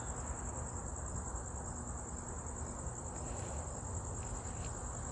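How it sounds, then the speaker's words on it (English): Crickets chirp steadily in a continuous high-pitched trill across an outdoor night setting, a constant even drone with no pauses and only faint background noise beneath. "Not sure if you guys can hear all the crickets."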